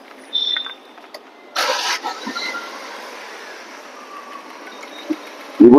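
A used car's engine cranks and catches with a short loud burst, then settles into a steady, even idle hum without stalling. The sound is close and carries no speech.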